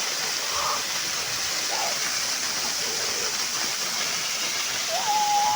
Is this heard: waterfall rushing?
yes